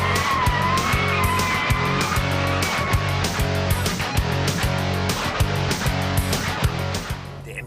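A BMW M6 takes a corner under a short burst of throttle, its engine note rising under rapid regular pulsing and tire noise, loud and close throughout without talk.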